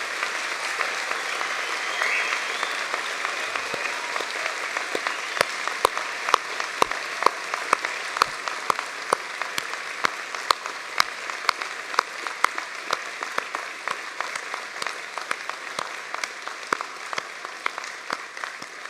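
Sustained applause from a large graduation ceremony audience for the arts, social sciences and humanities graduates: dense, steady clapping throughout with sharper individual claps standing out, fairly distant and even in loudness.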